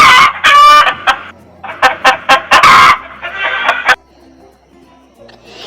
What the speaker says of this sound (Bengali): এটা হলো মুরগি। মুরগিকে ইংরেজিতে বলে হেন।